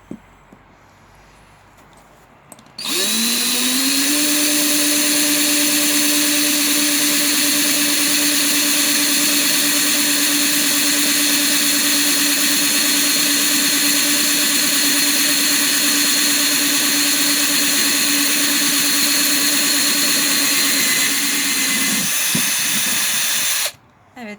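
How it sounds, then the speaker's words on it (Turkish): A drill bores a drainage hole through a ceramic pot, its motor spinning up sharply, then holding a steady, loud high whine for about twenty seconds before cutting off. "seramik biraz daha zor deliniyor"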